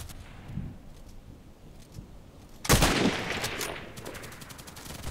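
A single loud, sharp sniper rifle shot in a video game cracks out near the middle, followed by a brief rumbling tail and a rapid series of lighter ticking clicks, with no voices.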